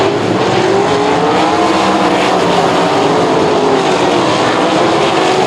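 Sprint cars race toward the checkered flag at Lernerville Speedway in Western Pennsylvania, a dense, continuous engine roar rising and falling as the cars sweep past, with no talking.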